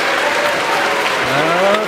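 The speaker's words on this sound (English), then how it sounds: "There's the booing." Debate audience booing, a dense sustained roar of many voices filling the room at a steady, loud level with a few rising tones near the end.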